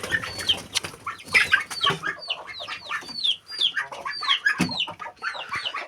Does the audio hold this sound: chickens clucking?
yes